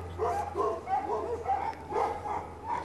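A young pug puppy gives a string of soft, high yips and little barks, about six short bursts in close succession at moderate volume over a steady low hum.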